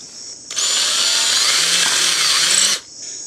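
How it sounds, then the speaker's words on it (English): Power drill boring a hole through a Recon Scout knife sheath, a steady loud whirring drone lasting about two seconds, with quieter workshop hum before and after. "make it easier for me to drill the remaining 3 holes"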